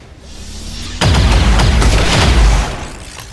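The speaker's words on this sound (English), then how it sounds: "Ursula, shoot the turret." Loud burst of game gunfire aimed at a turret in XCOM 2, a sharp onset followed by roughly a second and a half of booming, rattling shots that tail off into quieter ambience.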